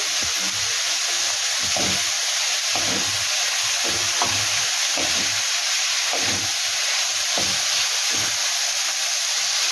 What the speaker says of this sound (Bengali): এইবার এটা একটু ভালো করে সেদ্ধ হোক, মানে ভাজাটা একটু ভালো করে হোক।